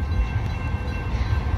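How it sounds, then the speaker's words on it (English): Union Pacific intermodal freight train rolling past a road crossing, a continuous loud low rumble with rattling cars and a faint steady tone above, close by and with no talking. "this train is stopping, I think, because it's nowhere near the end"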